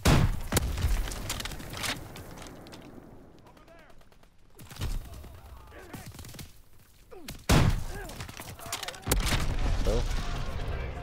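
Gunfire in the World War II shooter game Call of Duty: WWII comes as loud, sharp bursts and booming volleys that return several times over roughly eleven seconds, with quieter gaps in between.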